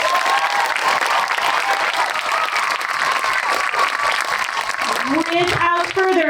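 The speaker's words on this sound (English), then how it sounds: "let's give them a round of applause" Crowd at an outdoor 5th grade culmination ceremony applauding in a dense, sustained burst, with cheering voices mixed in and a person's voice rising over the clapping near the end.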